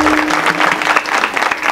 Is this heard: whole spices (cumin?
no